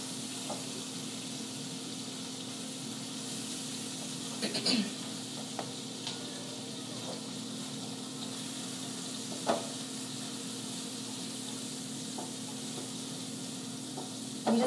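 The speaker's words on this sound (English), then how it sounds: "You just want to saute the broccoli until it's pretty soft." Broccoli sautéing in a pan gives a steady, soft sizzle throughout, with a few light clinks and stirring taps scattered over it; no one speaks.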